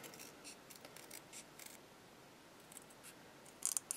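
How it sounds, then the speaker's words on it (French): Small scissors snip and rub through a rubber stamp, trimming about a millimetre from each edge: quiet, close, scratchy cuts in irregular short strokes, ending with a few louder crisp snips. "J'enlève 1 mm de chaque côté environ au ciseau."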